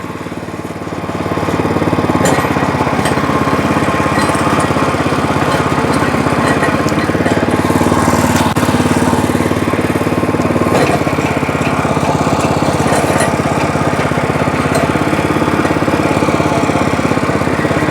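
WEIMA WMX5 walk-behind tiller with an active rotor, its engine running steadily and loudly nearby while the rotor turns in reverse, a constant throbbing motor drone with a few brief clanks.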